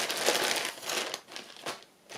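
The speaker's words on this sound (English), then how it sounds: "It's not ideal having this all in a great big plastic bag" A large plastic bag holding craft supplies crinkles and rustles up close in short loud bursts, with no talking.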